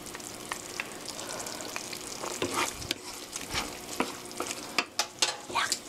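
Fusilli pasta is stirred through tomato sauce in a one-pot dish, with soft simmering under a run of scraping, clacking spoon strokes that grow louder and more frequent toward the end, and no voices.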